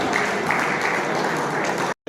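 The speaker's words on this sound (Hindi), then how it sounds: "उनका जोरदार तालियों से स्वागत करेंगे श्री टंकराम वर्मा जी" Loud, dense applause from an audience welcoming minister Tankram Verma to the stage at a BJP traders' conference in Dhamtari, steady for about two seconds, then cutting off abruptly.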